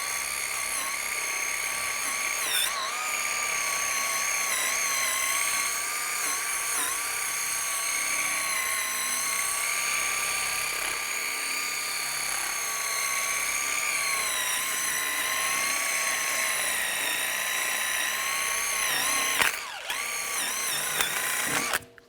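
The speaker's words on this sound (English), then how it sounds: "Now I'm going to clean up the hub area. You can use a wire brush or a die grinder" A die grinder or wire brush cleaning the wheel hub of a 2004–2010 BMW X3 during a front brake job, a loud, sustained high-pitched whine with slight pitch wavering and brief dips, running close and alone throughout.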